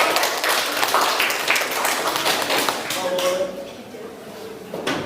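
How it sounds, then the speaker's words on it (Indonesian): Students in a classroom clap for a presenting group, a loose burst of hand claps and taps that thins out toward the end, with voices talking underneath. "Tepuk tangan dulu sama"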